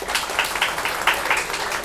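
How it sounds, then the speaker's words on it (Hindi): A seminar audience gives Kiran a burst of dense applause, with many hands clapping steadily and evenly throughout. "आप किरण दीदी के लिए एक बार ज़ोरदार तालियां बजाइए"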